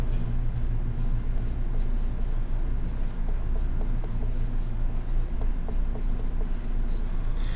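Pen or marker writing out a math expression on a surface, a steady scratchy stroking that runs continuously close up, with faint background hum.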